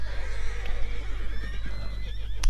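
A horse whinnies in Red Dead Redemption 2, a close, loud neigh with a rising and falling wavering pitch, followed by a few soft hoof clops and a low steady hum behind it.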